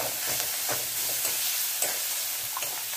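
Salt, turmeric and chilli powder sautéing in a pan over ginger-garlic paste, a steady close sizzle and hiss with soft stirring scrapes throughout, no voices.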